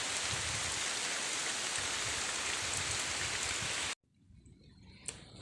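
Heavy, steady rain pouring down as a dense hiss for several seconds, then stopping abruptly, leaving quiet background with a faint drip.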